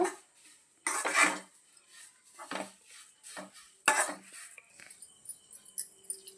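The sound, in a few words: drumstick leaves being fried and stirred in a pan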